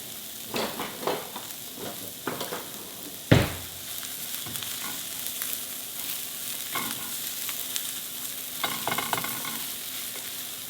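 Onions, red peppers and jalapeno sauté in a pan with a continuous sizzle, punctuated by repeated scraping stirs and one sharp knock of the utensil against the pan.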